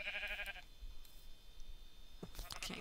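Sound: sheep bleating in the video game Minecraft

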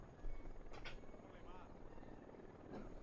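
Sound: helicopter flying in Ghost Recon Wildlands video game

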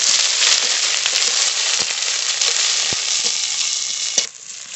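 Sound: chopped onion frying in oil for jute leaf dal

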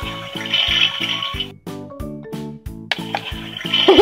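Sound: toy toilet flushing in vintage Barbie motorhome

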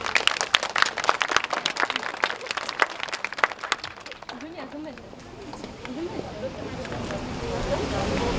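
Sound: applause welcoming the school director

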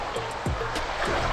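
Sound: mountain stream flowing

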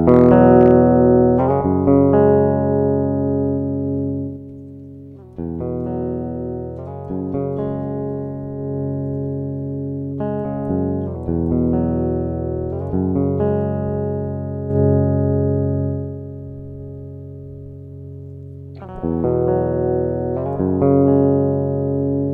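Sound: electric guitar lead pickup through Z-Tone buffer boost, virtual reamp

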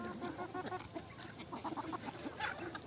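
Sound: chickens clucking

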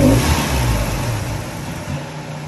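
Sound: Mazda Miata stage one turbo engine revving and stumbling

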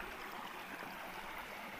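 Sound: stream water flowing

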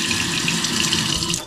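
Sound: Kohler Tyne pull-down kitchen faucet running water

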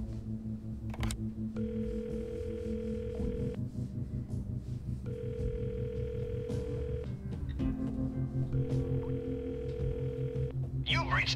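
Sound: telephone dial tone in a video game

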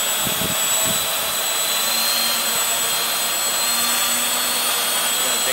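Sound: Walkera Furious 320 tilt-rotor drone motors spinning

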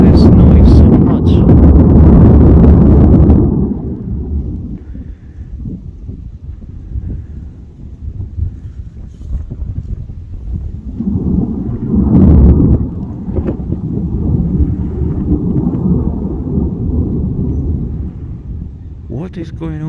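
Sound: La Palma volcano erupting and degassing noise

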